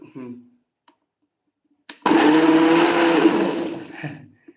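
A brief voice, a pause, then a click as a mixer grinder kicks in, whirring loudly and steadily for about two seconds before winding down.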